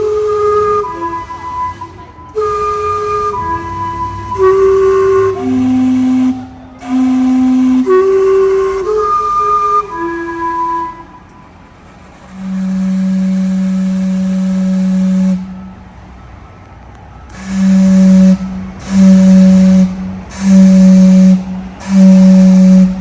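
The Gastown steam clock in Vancouver, powered by the city's underground steam system, plays a chime tune on loud, clear steam whistles, followed by several long sustained blasts with hissing steam.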